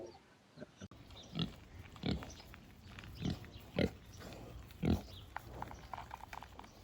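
Cows blocking a road on the way to a restaurant near Tsalenjikha, Georgia, giving a handful of short, grunt-like calls spread over several seconds, moderately close, with no talk.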